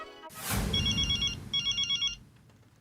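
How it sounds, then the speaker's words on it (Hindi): A telephone rings nearby in two electronic trilling bursts, separated by a short pause, after a soft thump at the start. "अभी मेहता साहब को फोन करता हूँ।"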